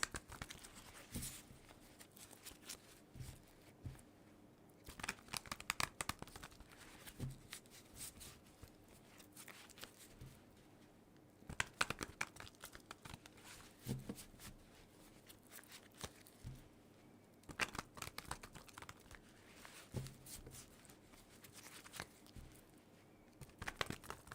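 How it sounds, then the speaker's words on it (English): A deck of tarot cards shuffled repeatedly, crisp papery riffles and slaps coming in quiet, irregular bursts, close by, with no talking. "let's go ahead and shuffle this deck several times to begin with"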